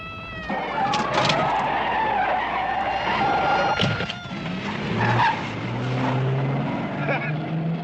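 A car skids loudly during a movie police chase, tyres screeching amid roaring engines and shouting voices, with several sharp squeals and a lower revving engine toward the end.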